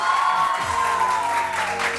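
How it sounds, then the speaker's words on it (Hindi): A morning TV show's studio audience applauds loudly and steadily throughout, with a hint of cheering and some voices mixed in. "आप लोगों की तालियां होंगी, म्यूजिक होगा और हम शो शुरू करते हैं।"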